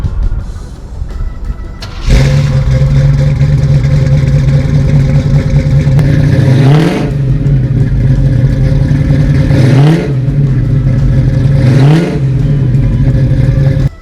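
A 1972 Chevy Nova with an LS3 V8 cranks and fires, settling into a loud, close idle, then gets three sharp blips of the throttle that rise and fall back to idle.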